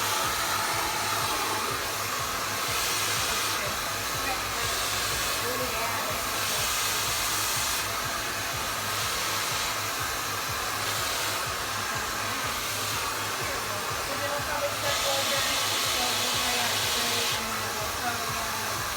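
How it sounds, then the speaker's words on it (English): Hair dryer blowing steadily on medium-length hair, a loud continuous roar with slight pulsing as the dryer is moved around, with no talk over it. "So now you're blow drying almost all of it."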